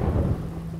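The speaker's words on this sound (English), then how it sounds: "it'll play one of 7 random thunder noises, which is what you hear." Thunder from the video game Terraria, a deep rumbling roll that is loudest at the start and then fades into a steady low murmur with a faint hum.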